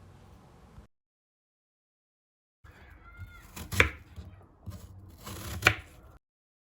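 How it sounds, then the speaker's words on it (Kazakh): Peeled aport apples being chopped with a knife on a board, a few close, crisp cutting strokes with two louder chops, starting after a short silence and no talk. "Салмаға мен апорт алмасын таңдадым, оның қабығын аршып, аса ұсақтамай тураймыз."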